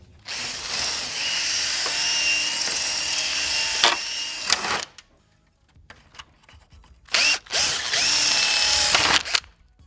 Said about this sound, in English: we have 7 rivets, plastic rivets, that all need to be drilled out and removed as well